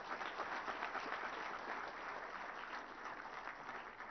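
An audience at an annual IT report launch event applauds steadily throughout, a dense, even wash of many hands clapping in a hall, with no voices over it.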